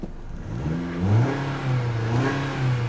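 A 2016 Jeep Compass engine with 87,000 miles revs up close, the pitch climbing and settling into a steady idle-like drone over a few seconds.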